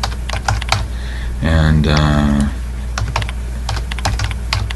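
Clicking keys on a computer keyboard, a steady patter of close keystrokes with a brief spoken voice partway through.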